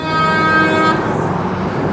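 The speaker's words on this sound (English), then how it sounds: "Unnecessary honking" A loud, sustained car horn blares in traffic for about a second, then cuts off into steady road and engine rumble.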